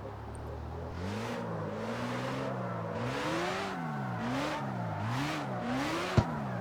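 A car in the CarX Street racing video game driven with all assists off, its engine revving up and down in repeated surges while tires squeal and skid between them, ending in a sharp click; no talk.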